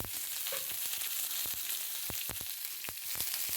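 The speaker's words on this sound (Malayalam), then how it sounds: "ഉള്ളി നല്ല ബ്രൗൺ കളർ വരെ നമുക്കൊന്ന് മൂപ്പിച്ചെടുക്കാം" Onions fry in a pan until brown, a dense steady crackle broken by sharp, irregular taps and scrapes of a spoon, close and alone.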